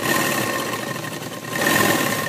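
A sewing machine runs steadily as it stitches a half-inch seam on burqa fabric, a close, continuous whirring drone with a slight rise in intensity toward the end.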